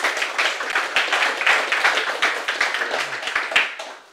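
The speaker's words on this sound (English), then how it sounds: "So please give a big round of applause and enjoy." A conference audience applauds at the start of a coreboot talk, fairly close and loud, with individual claps audible in a steady crackle that rises, holds, and falls away at the end.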